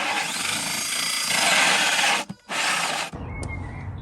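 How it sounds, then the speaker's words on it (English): A power drill whirs steadily, drilling a vent hole in a Land Rover Defender camper kitchen, briefly stops, starts again, then cuts off, leaving quieter workshop sounds. "I've just also marked a hole I'm going to drill"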